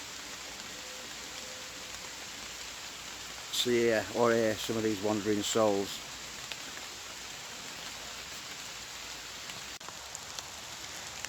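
Steady rain patters down over a wild campsite among tombstones, a constant hiss of drops on surfaces, while someone speaks briefly partway through.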